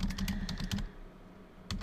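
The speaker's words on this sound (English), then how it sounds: "I am not typing every single number." Quick, close clicking of typing on a computer keyboard, with a rapid burst of keystrokes followed by a pause and then one more tap.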